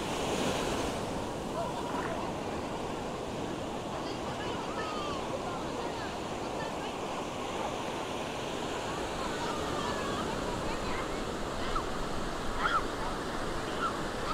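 Surf breaking on a beach at Udupi, a steady broadband wash of waves close by with wind noise buffeting the microphone throughout, no voices.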